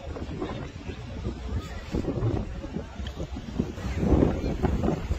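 Strong wind in Alexandria, Egypt, buffeting the microphone with loud, continuous low rumbling gusts that swell toward the end.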